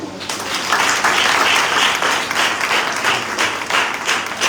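A church congregation applauds during an Urdu sermon, sustained loud clapping from many hands that swells and continues for several seconds.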